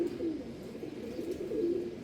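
Soft, low pigeon cooing repeats in gentle rolling phrases, close by, with no voices and only faint background noise.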